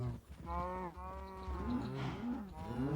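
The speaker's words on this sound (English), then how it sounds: "These cows are loud" Minecraft cows moo loudly in a survival game, several drawn-out, overlapping calls following one another close up with no talk.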